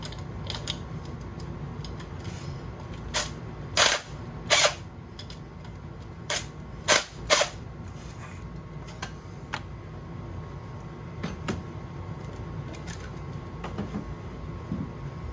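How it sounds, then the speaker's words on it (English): A small impact wrench rattles off bolts while a Mazda FB RX7's cooling system and water pump pulley are stripped. It comes in several short, loud bursts over a steady background hum. "Blast them off with the little impact."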